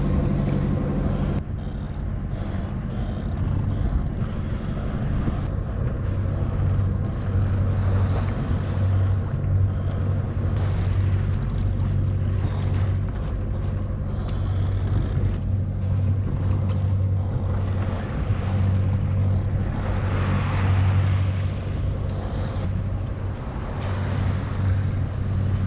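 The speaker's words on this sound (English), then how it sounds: "I put the engine on." Sailboat motoring under engine power at sea before dawn, a steady low engine hum under rushing water and wind, continuous and close with no talking.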